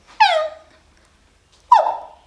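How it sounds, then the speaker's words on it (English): A dog barks twice at someone at the gate, each bark a sharp, loud, close yelp with a falling tail, separated by over a second of quiet. "right now she has started barking"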